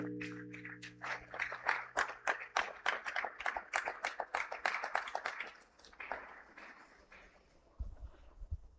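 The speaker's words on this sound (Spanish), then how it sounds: "El aplauso para el Dios del cielo." Clapping from a church congregation, crisp individual claps in a quick uneven rhythm, close and fairly loud, tapering off after about six seconds.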